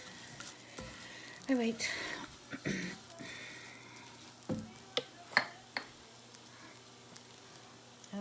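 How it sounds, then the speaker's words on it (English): Bulgur and vermicelli being stirred in olive oil and butter in a pan: a soft sizzle runs under scattered scraping and clinking strokes, with a few words spoken partway through. "give it a shush around because you want it to be coated with the olive oil and the butter"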